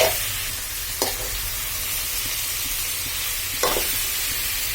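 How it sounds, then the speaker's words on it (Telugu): Bottle gourd and tomato pieces with turmeric sizzling in a hot pan while a spoon stirs them, a steady frying hiss broken by a couple of brief scraping stirs, close up with no talking. "ఇప్పుడు సొరకాయ టమాటా ముక్కలు కొంచెం వేడైన తర్వాత ఇందులో కొంచెం పసుపు వేసి మంచిగా కలపండి."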